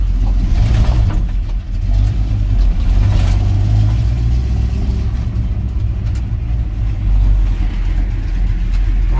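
A 1956 Chevrolet 3100 pickup truck engine, modified for more power, runs close by, a loud, deep, steady rumble with slight swells in revs.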